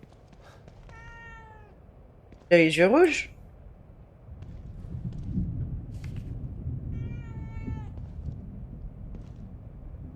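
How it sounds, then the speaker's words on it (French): A single loud, clear cat meow from the video game The Evil Within 2 rises and falls over a quiet background of faint tones, with a voice speaking briefly afterward. "C'est le chat que j'entends?"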